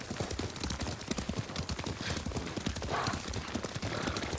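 Horse hooves galloping in Ghost of Tsushima, a steady fast clip-clop of hoofbeats running continuously and close, with the thudding rhythm filling the whole stretch.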